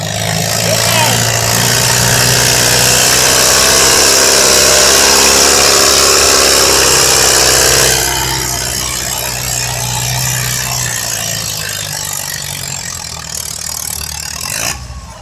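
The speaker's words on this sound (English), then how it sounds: "You've got that tractor running full power" A tractor roars at full power during a tractor pull at a county fairground, its loud, steady engine drone holding for about eight seconds before easing to a lower running rumble, with crowd noise and talk mixed in.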